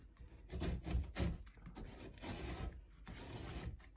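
Drywall repair patch being shaved down by hand, with soft, close rasping and rubbing strokes in an uneven rhythm, fairly quiet.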